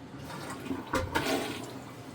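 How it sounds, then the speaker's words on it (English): A household toilet flushing, a short faint rush and gurgle of water draining from the bowl, heard alone without speech. "the toilet tank's full again. It's gonna need a third flush"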